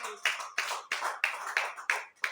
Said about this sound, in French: Applaudis pour toi